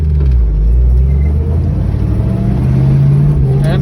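A 1963 Ford Falcon Futura pulls away in first gear, its engine giving a loud, close, continuous low rumble that swells slightly as the car accelerates.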